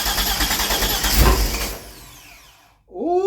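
Rat rod engine cranking on a first start attempt, a loud continuous churning roar that fades out and stops, followed by a brief pause and a short burst of a voice.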